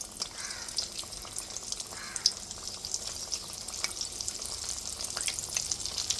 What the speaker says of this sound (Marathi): आता आपण याच्यामध्ये वड्या सोडून अशा मस्त डीप फ्राय करून घेणार आहोत.